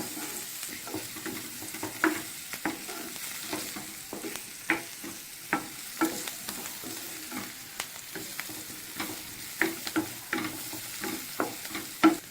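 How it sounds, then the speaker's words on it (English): Onions with turmeric powder sauté in a pan until caramelized, a steady sizzle broken by regular scraping strokes of a spatula close by, with no voices. "Add a little bit of turmeric powder and again just saute them until the onion becomes caramelized."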